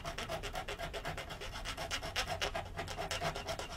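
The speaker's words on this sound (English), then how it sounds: "This is a saw that we call a treadle saw, and it's a replica of one that we think would have been used by Thomas Chippendale" A replica 18th-century treadle fret saw cuts through wood veneer with fast, rhythmic rasping strokes, close and continuous with no talk.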